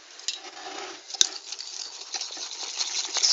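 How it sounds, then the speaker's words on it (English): A utensil stirs caster sugar into egg yolks in a bowl for chocolate orange ice cream, giving a soft, continuous scraping patter with one brief sharp clink partway through, close and alone. "stir the sugar, melt the sugar into the egg yolks, trying to get rid of any lumps."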